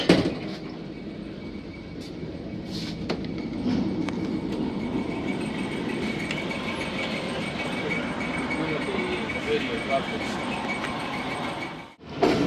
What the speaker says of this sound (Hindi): साढ़े 7 बजे दोस्तों ट्रेन का अराइवल हो रहा है मुल्तान कैंट रेलवे स्टेशन